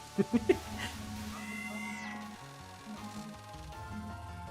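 A cat meows in a short burst of three quick cries near the start, set over ongoing game music and effects from a Touhou bullet-hell shooter, with a voice talking faintly underneath.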